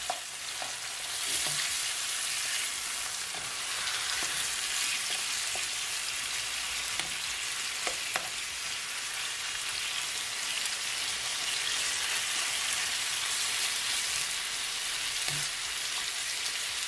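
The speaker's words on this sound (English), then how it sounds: "I'm just gonna give it a stir." Jamaican brown stew chicken fries in a pot with a steady, bright sizzle, while a spoon stirs it and scrapes and clinks against the pot at intervals. The sound is close and continuous, with no one talking.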